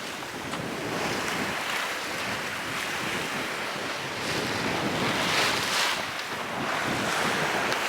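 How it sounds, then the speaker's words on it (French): Steady wind and rolling sea waves wash around a sailboat on a solo passage off the coast of Brazil, a continuous broadband roar with gusts swelling and easing, no voices. "Ah, là il y a 15-20 nœuds de vent"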